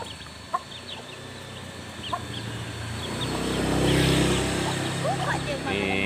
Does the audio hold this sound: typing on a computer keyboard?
no